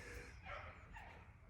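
Several dogs bark and yip in the distance, faint and intermittent over low background rumble.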